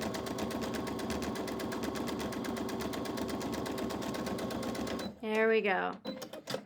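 A sewing machine stitches fabric strips onto fusible foundation with a rapid, even mechanical rattle for about five seconds, then stops as a voice speaks briefly.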